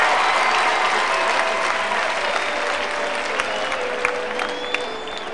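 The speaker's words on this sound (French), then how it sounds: "sous vos applaudissements" Wedding guests applaud warmly in a hall, a dense, sustained roar of clapping with some scattered whistles and cheers, steady and loud for several seconds.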